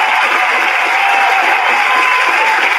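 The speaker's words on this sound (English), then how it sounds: "Give her a round of applause" An audience cheers and claps for Empress Aisha Moore, a loud, sustained roar of crowd noise with whoops and applause that stays at full strength throughout.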